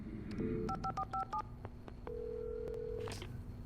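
Telephone keypad tones beep in a quick string of paired presses, then a steady dial tone hums, all inside the video game Alan Wake Remastered, clear over a low ambient bed with no talking.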